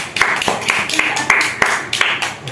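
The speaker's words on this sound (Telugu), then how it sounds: "క్లాప్స్" An audience claps at a blind magician's stage show, a loose run of sharp, fairly close hand claps in an uneven rhythm, with a little voice in the background.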